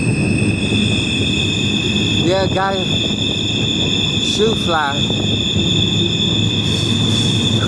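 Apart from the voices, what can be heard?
train wheels squealing on a curve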